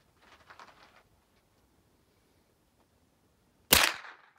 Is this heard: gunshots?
yes